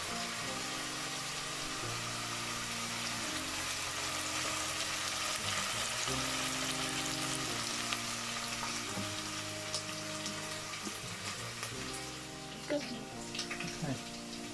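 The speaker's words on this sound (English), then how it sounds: "has been frying" Steady crackling sizzle of food frying in a pan, continuous and fairly loud, with a low tonal hum shifting in the background.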